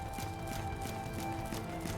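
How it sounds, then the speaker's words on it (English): Rhythmic footsteps in the Final Fantasy XIII video game tap steadily and faintly over a constant musical background, several even steps across two seconds. "This is your daily reminder that the footstep sound still exists."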